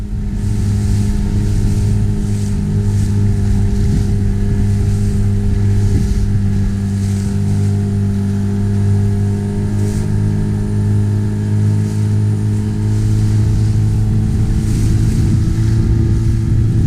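A loud boat engine drones steadily while big waves churn and slap against the hull off the Scottish coast between Lendalfoot and Portpatrick, with wind and surf rushing throughout.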